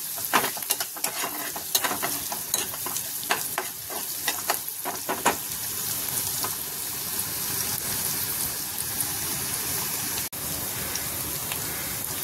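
Finely chopped carrots hit a hot pan for shevaya upma and fry with a busy sizzle, broken by several sharp scraping stirs early on before the frying settles into a steady hiss.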